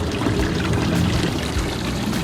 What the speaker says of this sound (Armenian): բազալտե սիմֆոնիայից հոսում է քաղցրահամ եւ սառնորակ բուժիչ ջուրը